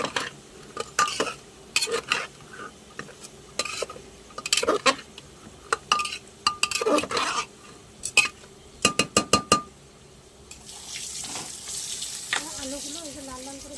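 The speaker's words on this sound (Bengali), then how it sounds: "আমি মশলাটাকে এইভাবে খুন্তির মাধ্যমে মাখিয়ে নিচ্ছি।" A metal spatula stirs cumin powder and spices in a pot for a mutton curry, making a series of close, irregular scrapes and clinks against the pot, followed by a rising steady sizzle of frying.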